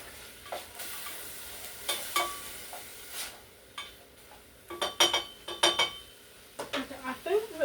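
Sausage with onions and mushrooms frying in a pan, with a low sizzle under repeated sharp scrapes and clinks of a utensil chopping and stirring against the pan, close by.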